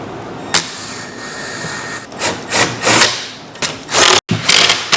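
Tool and hardware clatter while a 1/4 inch lock nut is fastened onto a 1/4 by 3/4 inch middle bolt during furniture assembly, loud close knocks and scraping bursts in irregular succession.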